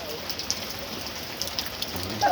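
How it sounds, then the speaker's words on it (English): Steady rain pours outdoors during a severe thunderstorm with wind gusts, a dense continuous hiss of drops hitting surfaces, fairly close and even in level, with a few faint chirps over it. "I'm gonna show you the rain"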